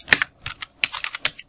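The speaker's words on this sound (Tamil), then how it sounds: "அப்படிங்கிறத டைப் பண்ணுறேன்." Fast irregular keystrokes on a computer keyboard, close and crisp, a quick run of clicks with short pauses, no voice.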